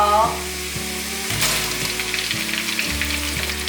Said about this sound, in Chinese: 香菇炒香后，放入芋头